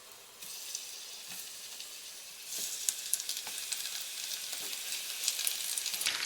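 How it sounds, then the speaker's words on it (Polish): Beef oxtails dropped into hot oil, a soft hiss swelling into steady, crackling sizzle with scattered pops, close and continuous with no talk. "na gorący olej wrzucam ogony"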